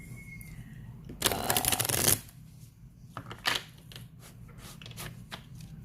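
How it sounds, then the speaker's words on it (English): Two decks of tarot cards shuffled separately by hand, one loud riffling burst followed by softer scattered card flicks and taps close to the microphone. "So I'm shuffling both decks, but not together"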